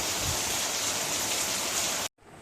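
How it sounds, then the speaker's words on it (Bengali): Heavy rain pours down steadily as a dense, loud hiss for about two seconds and then cuts off abruptly into quiet. "এখনও বৃষ্টি পড়ছে"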